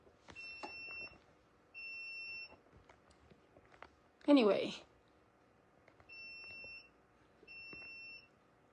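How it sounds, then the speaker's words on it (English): Repeated electronic alarm beeps in pairs of steady tones, each lasting about a second with gaps between, with a short burst of speech in the middle. "Not sure why this is beeping."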